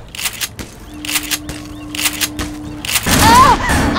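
Gunfire in the video game Left 4 Dead 2 crackles in several quick bursts of shots, followed by a louder burst of chaotic in-game noise toward the end.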